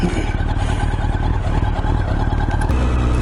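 Engine of a 1988 Honda CBR1000F motorcycle running on its first ride after a rebuild, a loud, steady close-up rumble at light throttle that holds for a few seconds with no speech.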